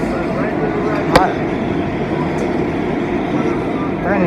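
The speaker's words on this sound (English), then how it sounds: "Stuck on the train." Inside a moving train, a steady, dense rumble and rattle of the carriage fills the whole stretch, with one brief sharp clack partway through.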